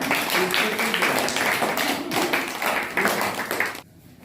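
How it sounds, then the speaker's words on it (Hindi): Children at a school festival clap their hands together in a steady, repeated rhythm, a dense group of close claps that continues for about four seconds and then stops abruptly. "दो, ताली बजाओ।"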